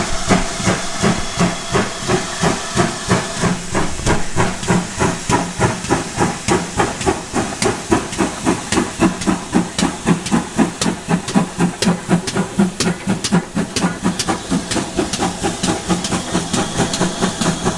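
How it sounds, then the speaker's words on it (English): A steam locomotive on the West Somerset Railway vents steam in a loud, continuous hiss, with rapid rhythmic chuffing and clanking running steadily through it, close by. "Lots of steam and smoke and noise."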